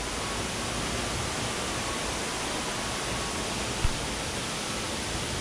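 Momotaro Falls gives off a steady, even rushing roar of falling water, heard from a short distance as a constant wash of sound with no talk.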